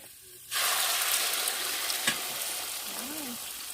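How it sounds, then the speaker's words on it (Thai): Egg with shallots frying in a pan: a sudden loud sizzle bursts in after a short quiet moment and hisses steadily to the end, with a brief clatter midway. "ทอดไข่ ใส่หอมแดงบ่ใส่กระเทียม"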